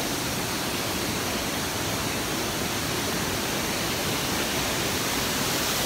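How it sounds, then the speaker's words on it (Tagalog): Vera Falls in Bicol, Philippines, a tropical waterfall pouring as a steady, dense broadband roar of rushing water, close and unbroken throughout, with no voices. "So this is the falls,"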